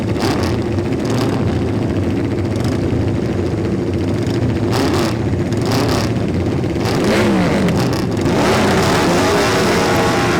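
A classic BSA motorcycle at the Classic TT roars by under a loud engine drone among other bikes, with a pitch sweep as it passes near the end.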